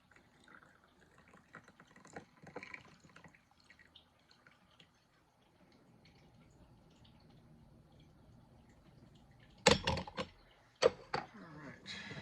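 Jingmai Purple Beauty black tea poured into small cups, a soft trickling stream under quiet room noise, with a few sharper clinks of porcelain near the end.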